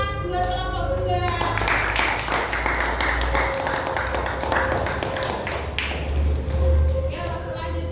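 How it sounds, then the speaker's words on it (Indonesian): A group of students in a school classroom claps for the fruit group's presentation with scattered, uneven handclaps that continue for several seconds. Voices and a low hum sit underneath. "Tepuk tangan buat kelompok buah."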